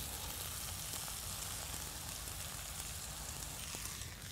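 Spices for khichuri frying in a pan, a steady soft sizzle and crackle that stays even and fairly quiet throughout.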